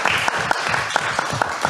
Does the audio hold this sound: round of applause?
yes